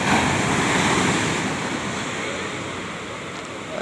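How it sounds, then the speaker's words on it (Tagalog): Ocean surf at a beach in Nasugbu, Batangas, a continuous broad wash of breaking waves close to the microphone, with some wind noise and no speech. "Ganyan na alon tawag sa amin yan"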